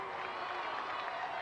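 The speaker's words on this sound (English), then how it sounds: "the crowd applaud the performance" Crowd applauding at the 1987 Panasonic Cup rugby league final between Balmain and Penrith, a steady wash of distant clapping and cheering from a large stadium audience, continuous and fairly even.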